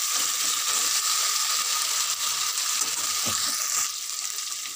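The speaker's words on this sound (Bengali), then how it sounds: "মশলাটাকে আমি এইভাবে ঠিক ভালো করে কষে নেব" A spice masala for mutton curry fries in a pan with a loud, dense, unbroken hiss close by and a faint knock partway through, easing slightly at the end.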